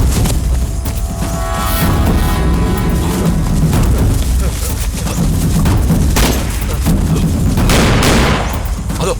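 Loud gunfire and booming blasts from a Tamil-dubbed action film fill the scene in dense, overlapping bursts, with voices and music mixed in.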